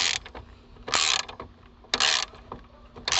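Ratchet wrench loosening a brake caliper bolt on a Peugeot 208 during a brake pad change: four short bursts of rapid clicking ratchet noise separated by quieter pauses, close up.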